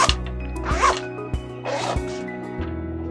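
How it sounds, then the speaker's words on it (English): A zipper is drawn open in a few short, rasping pulls, close and fairly loud, with brief pauses between strokes. "It has an inside zipper,"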